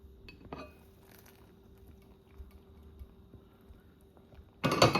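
A lid is set on a pot of rice and peas, giving a bright metallic clank at the end after quiet kitchen ticks and faint clinks.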